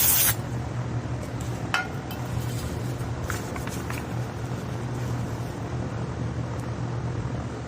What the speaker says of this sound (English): I'm gonna shoot some brake cleaner in there.